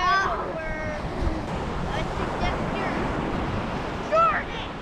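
Surf breaks on a Florida beach, sending a continuous rushing roar of waves cresting onto the sand. Wind buffets the microphone, and people talk briefly over the surf.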